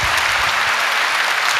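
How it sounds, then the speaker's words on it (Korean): A church congregation claps to encourage the youth choir at a thanksgiving service, a loud, dense, even burst of applause with no talk over it. "다시 한번 우리 박수로 격려하겠습니다."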